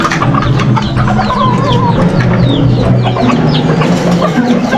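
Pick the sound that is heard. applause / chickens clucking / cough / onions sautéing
chickens clucking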